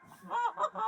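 Snow geese honk during a hunt, a quick run of three or four nasal honks from a flock, fairly close and clear.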